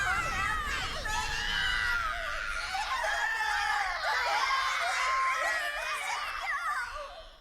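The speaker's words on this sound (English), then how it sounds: "The screams of burning victims rang out from the downed vessels" Many voices shriek and wail in the Drakengard 3 video game as victims burn aboard downed vessels, a dense, loud chorus of overlapping cries that rises and falls steadily before tailing off at the end.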